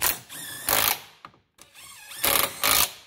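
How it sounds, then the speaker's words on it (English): A torque wrench ratchets while tightening a bolt on a 2006 Nissan X-Trail lower control arm: quick repeated clicking strokes in two groups separated by a short pause, fairly close and moderately loud. "Now, grab your torque wrench."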